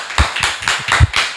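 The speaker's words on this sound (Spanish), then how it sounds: "eso merece un aplauso" A few close, sharp hand claps ring out in an uneven rhythm, roughly five or six in quick succession, loud and alone without talk, as applause during an interview.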